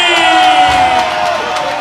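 A loud crowd roars and cheers continuously for an MMA fighter's entrance, with whoops and shouts rising over the din for a couple of seconds.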